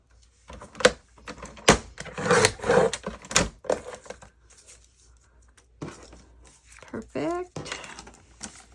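Scissors cut through the folded top edge of a paper journal page, giving a series of crisp snips and rustling paper sounds that come close and fairly loud in short bursts.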